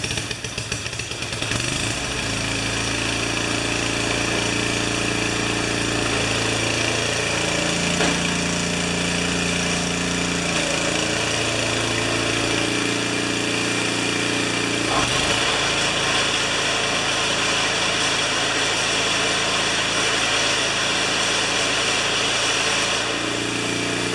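A Sno-Trac snowblower with new belts and a chain drive sputters to life and then runs at three-quarter throttle with choke, a steady, loud engine drone with a buzzy, chugging texture that wavers slightly in pitch.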